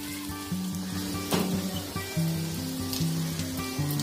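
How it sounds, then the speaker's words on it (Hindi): Bottle gourd kofta balls shallow frying in oil over a low flame, a steady close sizzle and crackle running throughout without speech. "इसको स्लो फ्लेम पर इसको फ्राई करना है, शैलो फ्राई करना है।"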